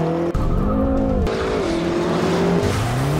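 BMW M performance cars are driven hard at a driving event, engines revving loudly as tires squeal in long sustained tones that shift pitch through the turns, with no voices.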